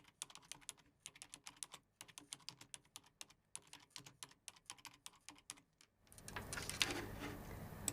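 Keywords being typed on a computer keyboard into a search box, rapid quiet clicking in bursts with brief pauses, followed by a rising broadband noise near the end.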